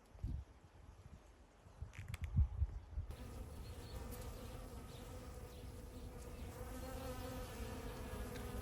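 Bees and other insects hum in a steady, low drone in a flowering garden in Crete, faint but constant, after a few brief rustles at the start.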